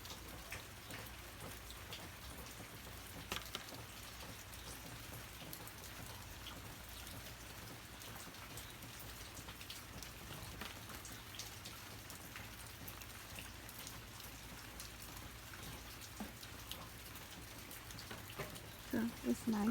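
Steady rain falls in a Hawaii yard during the winter season, a soft continuous hiss of drops on surfaces with scattered louder splats, faint and even throughout.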